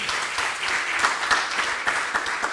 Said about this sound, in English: An applause for the people who organize all the technique here